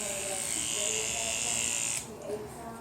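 Electric clippers buzz steadily up close as they shave a small patch of animal hair for a lab skin scraping, then cut off abruptly, leaving faint handling noise.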